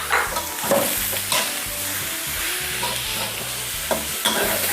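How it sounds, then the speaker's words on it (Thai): Soft pork bones stir-fry with garlic in a hot pan, giving a steady loud sizzle broken by a few spatula scrapes and knocks, close up with no voices. "พอกระเทียมเริ่มเหลืองแล้ว เราจะใส่กระดูกหมูอ่อนลงไปผัดด้วยก"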